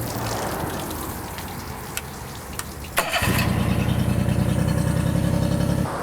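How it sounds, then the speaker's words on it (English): A low idle rumble, then a sharp catch as a four-stroke outboard motor cranks and fires, settling into a loud steady chugging run. "now I'm going to start the engine to see how much I have to add"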